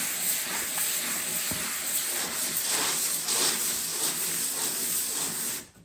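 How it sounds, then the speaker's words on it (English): Wet sandpaper rubbing across a boat hull during restoration, a steady close hiss of abrasion with slight swells in intensity, continuing without pause before cutting off near the end. "So you can actually hear the sandpaper taking down these sort of micro bumps because the pitch is higher."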